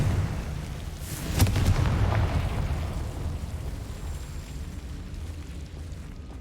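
A Confringo spell blast in the Hogwarts Legacy video game lands as a single loud burst near the start, followed by a rumbling roar that slowly fades.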